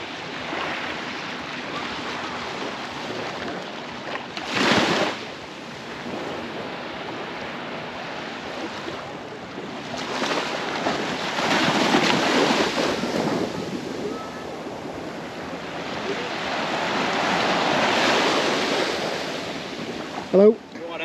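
Surf washes onto a beach on a Caribbean cruise stop, rising in broad surges with wind noise against the microphone and a brief close bump near the end.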